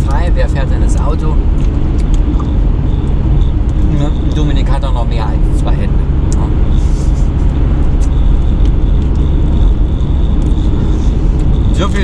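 A car drives through the Swedish Lapland wilderness, heard from inside the cabin as a steady low engine and road rumble that runs throughout while people talk over it.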